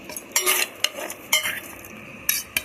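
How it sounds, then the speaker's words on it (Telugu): A spoon stirs and mixes carrot and mango pickle in a bowl, giving soft scraping and clinking strokes in irregular bursts, close and fairly quiet with no talk. "ఇప్పుడు దీన్ని కలుపుకోవాలి."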